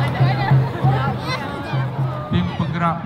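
A street parade crowd chatters and murmurs in the background while nearby voices talk over it, with steady low hum underneath.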